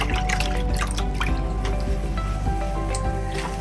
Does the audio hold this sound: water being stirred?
yes